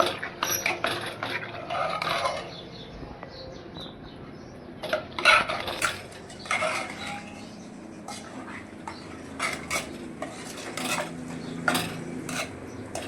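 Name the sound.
mixing ingredients in a pot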